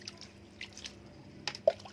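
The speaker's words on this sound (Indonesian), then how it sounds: "Kita siram dulu" Liquid nutrient poured over a compost heap in an organic village garden gives soft, faint drips and wet squishes, sparse and brief near the end, over a quiet background.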